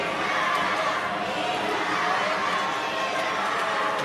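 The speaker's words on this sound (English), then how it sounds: "And the crowd really cheering them along here." Spectators at a wheelchair curling match between Great Britain and Italy in Milano cheer and chatter steadily, a dense, continuous crowd roar with bits of laughter throughout.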